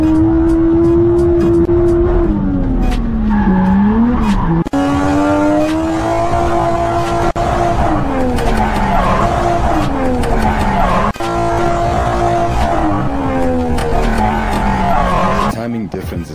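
A drifting car's engine revs and swoops up and down while its tires squeal through rapid transitions, loud and close, with a sharp break or two in the howl and a final drop-off at the end.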